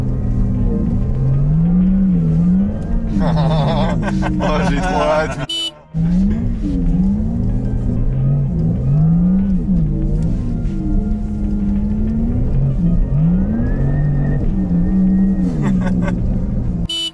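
A Porsche Taycan Turbo S accelerating and sliding on an icy closed road, its electric whine rising and falling in repeated wavering sweeps as the car slides, with a brief cutout midway and excited voices talking throughout.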